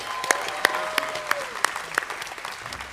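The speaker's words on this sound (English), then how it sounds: "Let's give them a round of applause." Audience applause at a University of Montevallo spring commencement ceremony: scattered, moderately distant clapping with a few sharper individual claps standing out.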